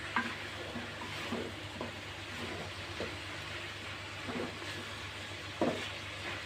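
Drumsticks sautéed in a pan give a soft, continuous sizzle, broken by quiet spatula scrapes and stirs at irregular intervals, one sharper scrape near the end.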